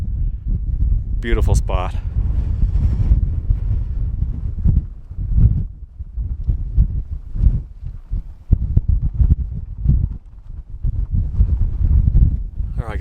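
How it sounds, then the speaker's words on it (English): Strong wind buffets the microphone atop a mountain peak in the American West, a steady low roar throughout with gusty surges, while a person speaks briefly near the start. "Ooh, that wind. It's brutal."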